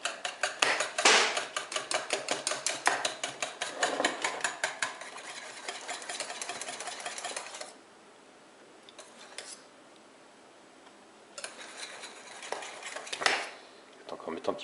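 A spoon clinks rhythmically against a container while stirring a homemade liquid hand soap mixture, quick repeated taps close by, pausing into near silence, then a few more stirs.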